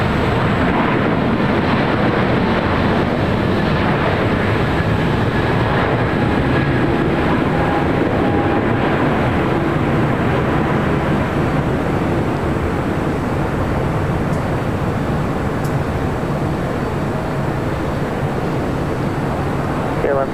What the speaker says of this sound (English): We got that 777 heading to Newark with United, rolling down